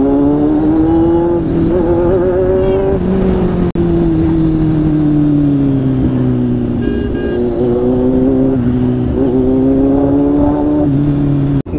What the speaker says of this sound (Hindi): बहुत ज़्यादा गंदा वाला ट्रैफिक में फंस गया हूँ